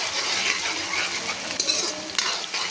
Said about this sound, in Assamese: আৰু ৰিফাইন তেলতে ভাজিছোঁ